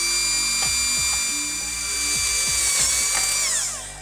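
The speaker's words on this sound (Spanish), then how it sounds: "y ahora taladramos" A power drill whines steadily as it bores into the plastic casing of a PS3 Slim, its pitch dipping and recovering under load before spinning down at the end, close and loud.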